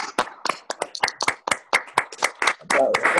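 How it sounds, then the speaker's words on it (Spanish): A short burst of virtual applause honouring health workers fighting COVID, a few people clapping close by in an irregular patter of sharp individual claps over about three seconds. "Así que pido a todos el aplauso virtual."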